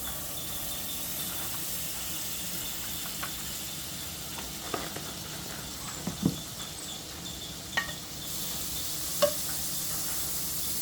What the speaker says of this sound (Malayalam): ഒരു പേന അടുപ്പത്ത് വെച്ചിട്ടുണ്ട് അത് ചൂടായി നമ്മളതിലേക്ക് ബട്ടറാണ് ചേർത്ത് കൊടുക്കുന്നത്